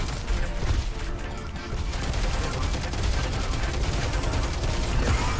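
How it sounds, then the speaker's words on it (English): Dense, continuous gunfire from several weapons fills a fast arena shooter match in Diabotical, loud and close with overlapping rapid bursts and impacts throughout. "there's so many people shooting at me"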